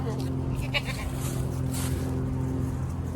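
Goats on a small farm bleat a few times at close range while someone talks nearby, over a steady low hum.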